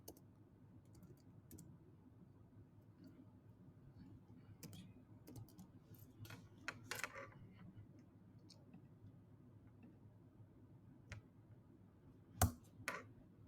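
Computer keyboard keys tapped in short, scattered bursts while entering Swift code in Xcode, quiet and close, with a few sharper clicks near the end over a low background hum.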